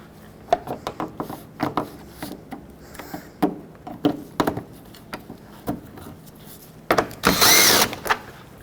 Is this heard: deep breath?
no